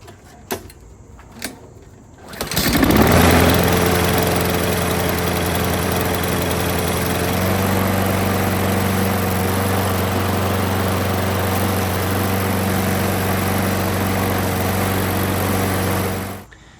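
Craftsman push mower engine, choked, firing up after a short pull and settling into a steady, loud, close running drone that holds until it cuts off near the end.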